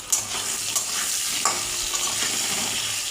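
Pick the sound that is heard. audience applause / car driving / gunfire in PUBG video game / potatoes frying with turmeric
potatoes frying with turmeric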